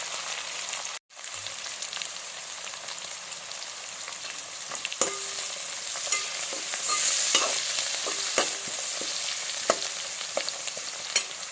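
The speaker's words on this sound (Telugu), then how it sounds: "మంచిగా ఆనియన్ వేగనివ్వండి." Onions fry with turmeric and coriander leaves in a pan for mutton fry, giving a steady close sizzle with frequent stirring scrapes and clicks, and no talking.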